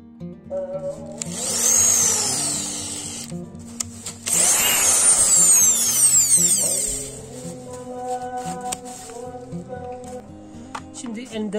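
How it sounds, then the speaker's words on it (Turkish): A Bosch hammer drill bores into concrete in two loud sustained bursts of whining, rattling impact drilling, with quieter mechanical clicks and handling noise between and after. "Şimdi darbeli kısımda tekrar delme işlemi gerçekleştiriyorum."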